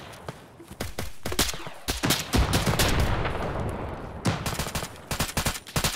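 Rapid gunfire and heavy explosions in the military video game Arma, on the Sahrani map: dense cracking bursts and booms crowd the whole stretch, loud and close, with no talk over them.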